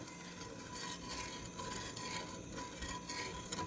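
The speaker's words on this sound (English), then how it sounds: "Those are the granules you're hearing as I mix." Sugar and salt granules scrape as salsa is stirred, a faint, steady gritty rasp of a spoon moving through the mixture in a bowl with no pauses.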